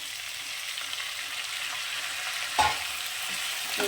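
Cauliflower florets and lightly fried potatoes crackle in a pan, an even close sizzle with one louder clatter near the middle and a small knock at the end, no voices.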